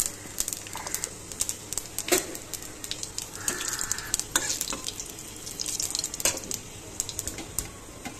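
Dried red chillies and panch phoron crackle in hot oil in a wok, scattered sharp pops and sizzling bursts over a low hiss, fairly close and moderately quiet.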